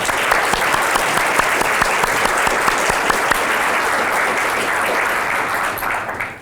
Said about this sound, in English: We should give them a clap